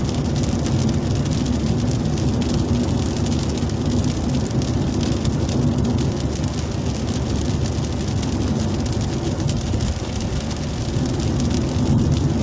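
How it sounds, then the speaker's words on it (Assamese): Heavy rain drums continuously on a moving car, a loud, steady hiss of drops on the roof and windscreen with a low road rumble underneath. "চব বৰষুণ দিয়ে আছে"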